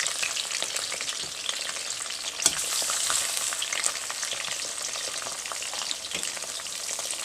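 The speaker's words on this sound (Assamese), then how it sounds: "মই আগতীয়াকৈ মাছৰ মূৰখিনি ফ্ৰাই কৰি ল'ম" Fish heads fry in hot oil in a pan with a steady crackling sizzle up close, broken by a few sharp stirring knocks, with no voices.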